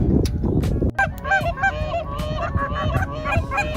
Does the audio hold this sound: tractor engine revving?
no